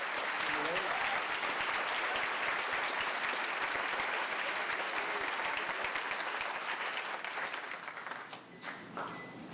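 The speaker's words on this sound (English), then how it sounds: "Please give them another round of applause." An audience at a school fall concert applauds in a dense, sustained burst of clapping that carries on steadily, then thins and tapers off at the end.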